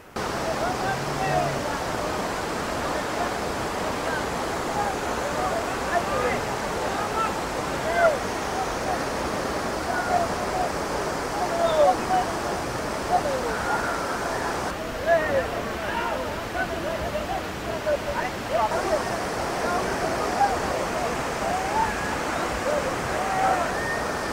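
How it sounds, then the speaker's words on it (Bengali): Hundru Falls near Ranchi, a high waterfall with a large volume of water, gives a steady, broad roaring wash that holds level throughout, with faint voices and small sounds scattered over it. "প্রচুর জল রয়েছে আর অনেক উঁচু থেকে পড়ছে"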